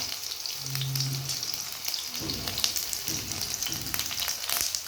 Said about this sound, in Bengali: এখানে একটু কাল জিরা দিব একটু পেঁয়াজ কুচি দিয়ে দেবো